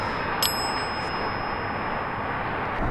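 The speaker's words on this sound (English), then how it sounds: "Wow, they like the bell." A bell struck once, giving a bright, clear ding with a long sustained ringing tone that lingers over a steady background hiss, with no voices.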